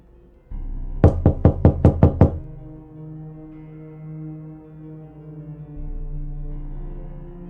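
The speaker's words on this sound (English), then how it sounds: "I just turn and knock on the door." Seven quick, sharp knocks on a door in a steady rhythm, loud and close, followed by a low sustained hum.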